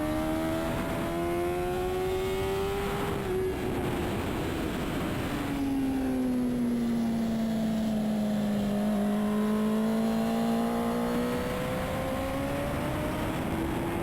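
A SuperStock 1000 racing motorcycle at NOLA Motorsports Park drones loudly and continuously; its engine note rises, drops sharply as the rider works the clutch, then swells and falls again as it pulls through the corner.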